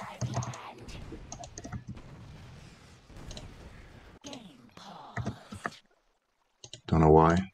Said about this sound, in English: Your mouse and keyboard is a lot worse now than it was.